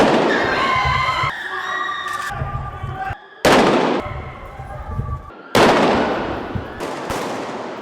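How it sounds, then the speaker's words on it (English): Gunfire from an active shooter inside a building cracks out in several sharp, loud bursts separated by short gaps, with a voice talking in between. "Shooting anyone in his path as he makes his way through the building."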